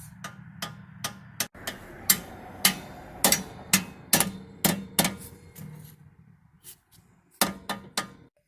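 Light metallic taps ring out while parts are loosened during a shock absorber replacement on a Toyota Highlander: about a dozen sharp, close knocks in an uneven rhythm, with quieter gaps between them.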